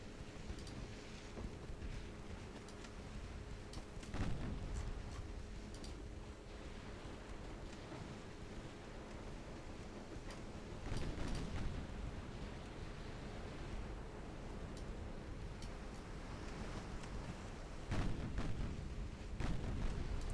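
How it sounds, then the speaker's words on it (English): Battleship main guns booming in a Greek naval campaign game, several distant heavy shots around five, eleven and eighteen seconds over a steady bed of wind and sea noise. "use the main guns on their battleships"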